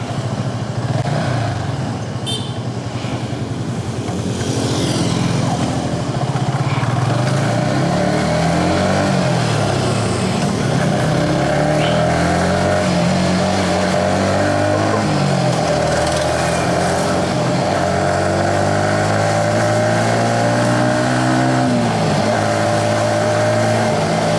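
A Yamaha XSR 155 motorcycle engine runs close and continuous on a road test ride, its pitch rising and falling through repeated revs and gear changes over about twenty seconds, with no talking.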